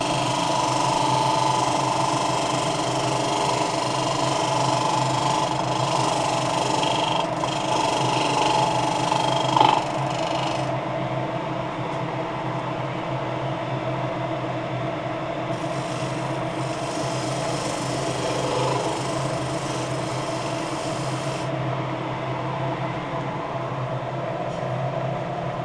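Wooden bowl being turned on a lathe, with a steady motor hum and drone and a faint scraping from the gouge that comes and goes.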